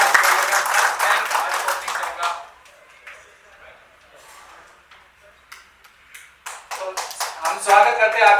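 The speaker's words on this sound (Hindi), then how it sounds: "एक बार जोरदार तालियों के साथ में वेलकम करते हैं" An audience at an academy's success celebration claps to welcome a first-ranked student: a loud burst of clapping that dies away into a few scattered claps, then swells again near the end.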